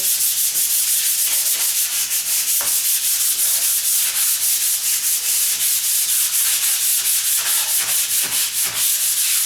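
A door is sanded by hand before painting, a loud, steady back-and-forth rasping with regular stroke rhythm that continues without pause and without voices.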